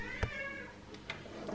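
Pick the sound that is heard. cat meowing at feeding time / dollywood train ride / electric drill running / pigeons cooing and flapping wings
cat meowing at feeding time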